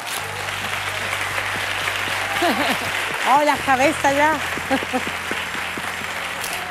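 Sustained audience applause at a copla singing contest fills the clip as a steady wash of clapping, with a voice calling out over it partway through.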